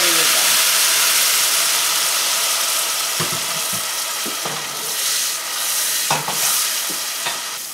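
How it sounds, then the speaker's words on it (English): Chicken fries in a pan with salt, ginger and garlic, giving a steady sizzle and hiss, with a few stirring clatters and scrapes scattered through it. "a teaspoon of salt, teaspoon of ginger and garlic, and then I'll fry it for a little bit."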